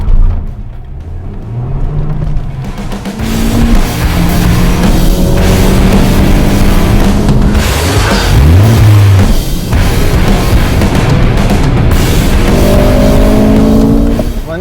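A 2019 Honda Civic Type R driven hard, its engine loud and close as it revs up through rising gear pulls and drops between shifts, with brief tire squeal in the middle and no talking.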